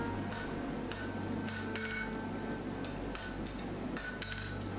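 A blacksmith hammers steel while forging a serpent shelving bracket, sharp ringing strikes coming roughly every half second to second at steady close range over a constant low hum.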